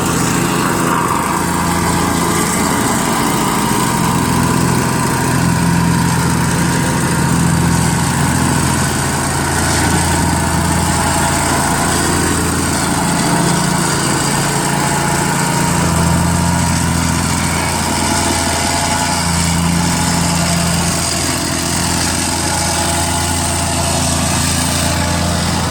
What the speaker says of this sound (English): Walter is using a tamper to push down the levels